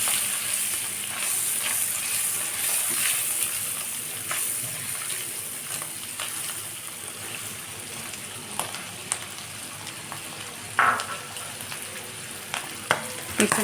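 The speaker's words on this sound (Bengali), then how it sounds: "এরপর যে আমি অ্যাড করে দিচ্ছি চিংড়ি এবং মাশরুম দিয়ে এটা ভালোভাবে ছটে করে নিব" Shrimp and mushroom stir-fry in a pan for chow mein, a steady close sizzle with occasional sharper crackles and scrapes of stirring, no voices.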